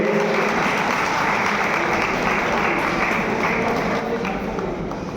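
A hall audience applauds in honour of soldiers, with dense, sustained clapping from many people that stays loud throughout and tapers only slightly at the end.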